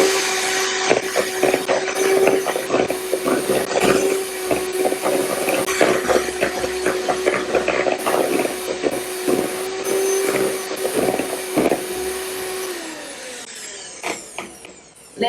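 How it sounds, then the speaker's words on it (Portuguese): Electric hand mixer beating brownie batter in a bowl, a steady whirring drone with repeated clattering knocks as the beaters hit the bowl, close and loud throughout before stopping near the end. "aqui no caso eu tô usando a batedeira porque eu quero economizar meu braço"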